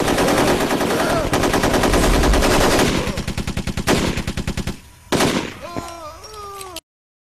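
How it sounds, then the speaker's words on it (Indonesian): Gunfire in a film scene, loud sustained bursts of rapid automatic shots followed by a few sharp single reports, with a voice briefly heard near the end before it cuts off. "mencoba untuk menembaknya, tapi malah dia yang ditembak sampai meninggal"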